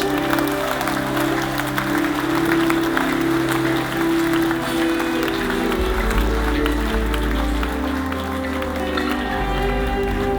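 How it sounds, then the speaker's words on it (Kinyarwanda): Loud, sustained applause from a crowd at a Kinyarwanda church service fills the whole stretch, with music or voices underneath. "Turagukomeye amashyi menshi."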